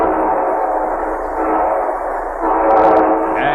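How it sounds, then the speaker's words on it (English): A train sound effect on a vintage radio show, a sustained steam-train whistle and rolling rail rumble, muffled and even, with a brief brighter burst near the end. "And here comes our star-studded show train."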